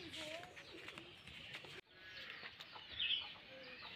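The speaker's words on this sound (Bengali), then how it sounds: "আমাদের রাজশাহীর গিরিবাজ কবুতর" Rajshahi Giribaj pigeons in a loft in Charghat, Rajshahi, cooing softly at low level, with a few brief louder bird calls amid faint background voices.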